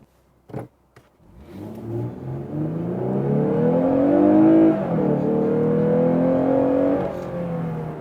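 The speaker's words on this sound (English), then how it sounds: "the Active Sound Control does really increase the engine noise that you hear in it" BMW engine revving hard with Active Sound Control switched on, a loud rising engine note that climbs, dips briefly, then holds high before easing off, after a short click at the start.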